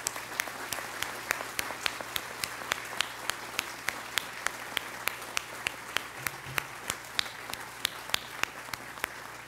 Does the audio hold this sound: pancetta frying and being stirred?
no